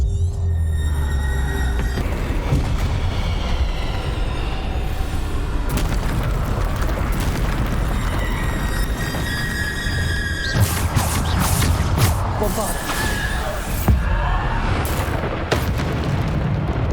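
Bombarda spell blasts cast in Hogwarts Legacy ring out as loud, booming explosions, with repeated heavy bursts and high squealing magical effects layered over a constant dense roar of battle.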